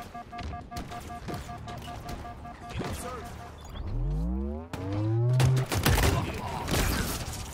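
Gunfire and explosive game action from Halo Infinite multiplayer, a burst of shots and crashing impacts mixed with rising sci-fi weapon and vehicle whines, loud and busy, with voices talking over parts of it.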